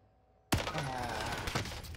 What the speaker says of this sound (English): Bro, I just got sniped.